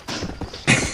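Horse hooves galloping in Red Dead Redemption, a quick clip-clop of several close, fairly loud hoofbeats in an uneven running rhythm over about a second.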